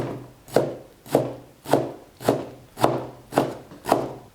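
Blanched, squeezed bok choy gets chopped into small bits with a knife on a board, seven even, solid thuds at a steady pace, close and clear.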